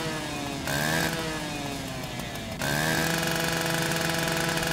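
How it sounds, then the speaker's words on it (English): Firefighters cut with a K12 rotary power saw at an all-hands structure fire in New York City, the engine a loud continuous whine that drops briefly and then revs back up to a steady high pitch. "And let's change to the saw."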